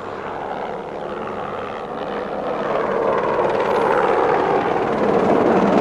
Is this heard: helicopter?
yes